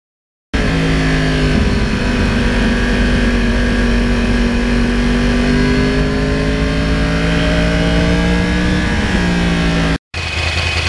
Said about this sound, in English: This Crossplane sounds totally, totally different. Takes the throttle totally different